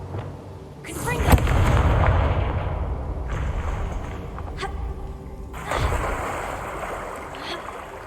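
A Confringo spell blast goes off in Hogwarts Legacy, a sharp explosive burst followed by a rumbling wash and a second blast later. Ambient game noise fills the gaps.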